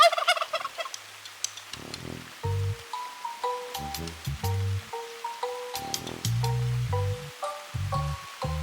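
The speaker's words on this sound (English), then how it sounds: "Wild turkeys drink from one of the ponds at Sanborn." Wild turkeys gobble repeatedly beside a pond in Sanborn County Park on a rainy day, loud rattling gobbles from several birds overlapping in bursts, with softer bird calls in the background and no speech.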